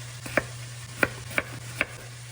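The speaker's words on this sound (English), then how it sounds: "Now I am chopping up the vegetables for" A knife chops vegetables on a cutting board in four sharp, evenly spaced strokes, close and distinct over a low steady hum, with no talking.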